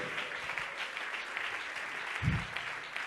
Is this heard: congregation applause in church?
yes